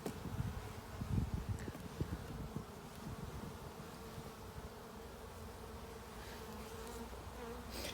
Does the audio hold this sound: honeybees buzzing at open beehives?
yes